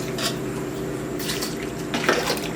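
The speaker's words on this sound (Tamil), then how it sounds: "சிக்கன் வேகிறதுக்கு தண்ணி சேர்த்துக்கலாம்" Water poured into a pot of chicken curry (kulambu) on the stove, a steady close splashing and trickling with a brief heavier pour near the end, no talk.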